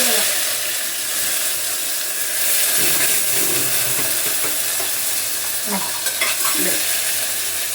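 Onion and tomato sauté with curry leaves, cumin and crushed garlic in a pan, a loud constant close sizzle and hiss with occasional stirring scrapes and clinks over it.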